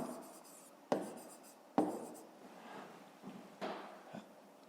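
A pen scratches across paper in short bursts of writing, with a few sharp taps as the pen touches down, close and fairly quiet, with no talk.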